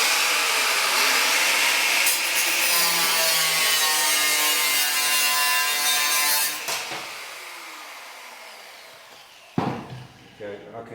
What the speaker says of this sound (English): I'm going to use the grinder just to cut that last one off